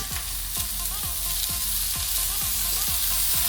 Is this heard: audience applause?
no